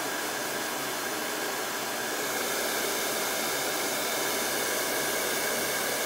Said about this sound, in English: it doesn't take long for things to dry, especially when you're using a blow dryer